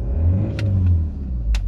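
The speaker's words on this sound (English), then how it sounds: "Revs up nicely." A 2016 Hyundai i30 1.6 CRDi diesel engine revs up from idle, a deep, steady rumbling swell rising and easing over under two seconds, heard close with a couple of faint clicks and no talk.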